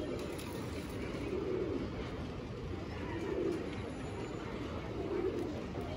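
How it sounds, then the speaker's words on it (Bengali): Pigeons kept on a house rooftop, soft low cooing repeating about every two seconds beneath a steady broad background hiss of wind or traffic. "এই যে কবুতর অনেক সুন্দর করে খাচ্ছে, এই যে উঠতেছে ওর হচ্ছে কবুতরগুলো।"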